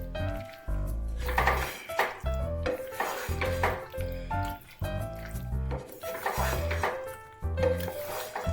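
A spoon scrapes and clatters in a pan as fried onion is stirred into chili chicken gravy, giving repeated rhythmic scraping and wet squishing, close and fairly loud.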